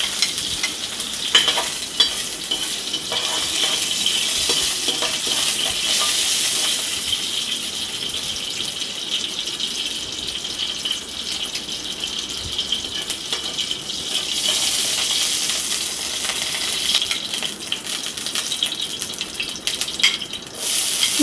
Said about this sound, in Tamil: எண்ணெய் ஊற்றிக்குங்க. இதில் வெந்தயம் போட்டுக்குங்க.